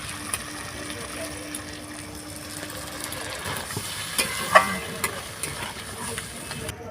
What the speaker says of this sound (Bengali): এটা ভাজা ভাজা হয়ে গেছে আর যে মিশ্রণটা আমরা করে রেখেছিলাম সেইটা এবার এই এতে দিয়ে দেবো